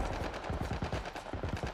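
A turret fires rapid bursts of automatic gunfire in the video game The Last of Us Part 1, a quick rattling string of sharp shots at a moderate, somewhat distant level.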